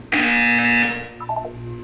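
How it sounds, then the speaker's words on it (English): A single loud electronic buzzer sounds in the Portal 2 video game during a wellness exercise. It is a harsh, steady tone that holds for under a second and then decays, followed by a few faint softer tones. "When you hear the buzzer, look up at the ceiling."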